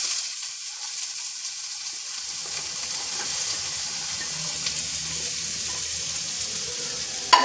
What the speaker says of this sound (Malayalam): എണ്ണ ചൂടായി വന്നാൽ നമുക്ക് അതിലേക്ക് ഉള്ളിടാം